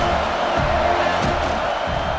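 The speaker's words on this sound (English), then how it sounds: "This crowd knows this defense needs them right now." Stadium crowd in a college football video game, a continuous dense roar of cheering that holds steady throughout, with no commentary over it.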